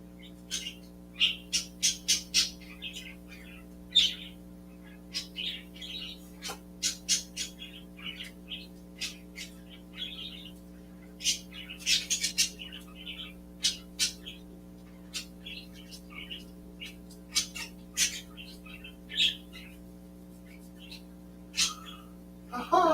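Pet birds indoors give off scattered sharp squawks and chirps at irregular intervals over a steady low electrical hum, some calls close and loud, others fainter, with occasional quiet talk in the room.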